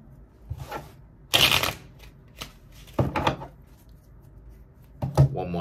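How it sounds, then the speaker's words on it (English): A deck of tarot cards is shuffled by hand in several short bursts of riffling and riffled snaps, separated by quiet pauses, close and crisp. "One more time, let's shuffle it up to make it really random."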